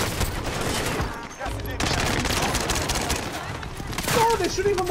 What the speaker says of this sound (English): Oh, they're shooting from the hill.